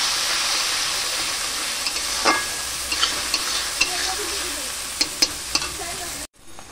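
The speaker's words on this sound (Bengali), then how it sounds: "প্রথমেই আমি আদা রসুন বাটাটা দিয়ে দেব। এটা একটু কাঁচা গন্ধটা তাহলে চলে যাবে, একটু ভেজে নিই।" Ginger-garlic paste fries in a pan with a bright, steady sizzle, broken by a few sharp clicks and scrapes of stirring, before cutting off abruptly near the end.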